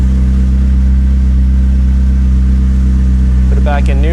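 A McLaren's engine hums at a low, steady idle-like drone while being shifted into drive, loud and close from inside the car, with a brief electronic chime near the end.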